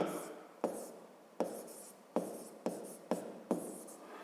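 Pencil or pen writing by hand on paper in a math exercise, a series of short scratchy strokes, each starting with a sharp tap and fading, fairly quiet and close.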